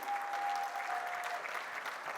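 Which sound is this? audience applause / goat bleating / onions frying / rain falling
audience applause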